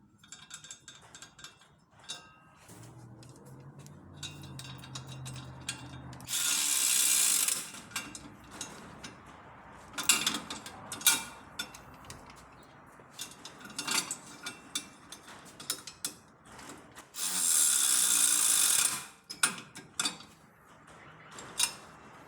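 A hand ratchet clicks in quick bursts while tightening bump stop extension brackets onto a 2020 Ford F150 axle, with close metallic tool clatter and brief louder grinding passes between the ratcheting.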